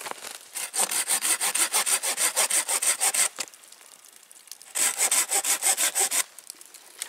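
Silky Gomboy folding saw cutting through poplar, a soft hardwood, with fast rhythmic rasping strokes in two bursts separated by a short pause, close and crisp.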